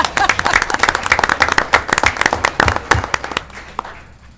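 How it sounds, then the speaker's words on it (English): Brief round of applause at a town council meeting, a small group clapping close and crisply for about three seconds before fading out into quiet. "We can give them a round of applause too."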